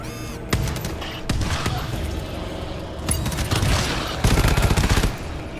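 Deployed sentry turrets fire in the video game GTFO: rapid automatic bursts come in several waves, some louder and closer than others, with dull booming thuds mixed in among the gunfire.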